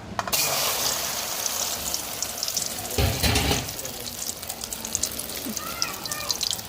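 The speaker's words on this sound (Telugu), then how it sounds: "పసుపు మొత్తం అయితే కలిసి అంతవరకు కలిపి వేసేసుకొని ఆయిల్లో ఫ్రై చేయాలి" An omelette mixture of eggs, chili powder and turmeric fries in oil, a loud continuous sizzle close up with a brief heavier burst of hissing partway through.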